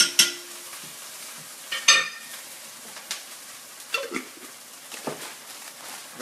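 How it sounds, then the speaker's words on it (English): Ginger garlic paste sizzles in olive oil in a pan, a soft steady hiss punctuated by several sharp clinks and scrapes of a utensil stirring against the pan. "Again, you want to listen to that sizzle?"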